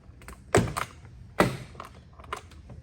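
Plastic retaining clips on a Lexus door panel pop loose as the panel is pried off, two sharp close snaps with lighter clicks and taps between.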